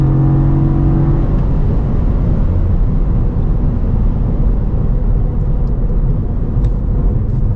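A 2023 Cadillac CT4-V Blackwing with a manual gearbox accelerates hard on a track after a shift, its engine a steady loud roar close up with a rising tone early on.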